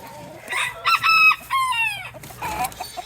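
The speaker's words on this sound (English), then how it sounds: "here's our chickens and our ducks" Chickens cluck and a rooster crows loudly nearby among a mixed flock with ducks, a rising strained call in the middle, with more clucking after.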